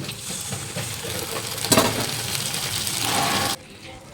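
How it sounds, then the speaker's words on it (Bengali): Spice paste hits frying onions in a pan with a steady, moderate sizzle and a brief burst of stirring scrape near the middle, then the sound cuts off to near quiet. "পেঁয়াজ ভাজা ভাজা হয়েছে, আমি মশলাটা দিয়ে দেবো।"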